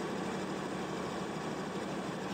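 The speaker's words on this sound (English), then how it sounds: "Come on, tractor, you can do it." Tractor engine in Farming Simulator 19 straining for power, a steady, continuous drone held at an even loudness throughout, with no talk over it.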